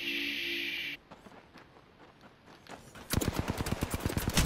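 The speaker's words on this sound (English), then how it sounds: "I hear gunfire." Apex Legends gunfire: after a brief electronic tone, scattered faint shots give way to a loud, rapid burst of automatic fire at the end, close and without talk.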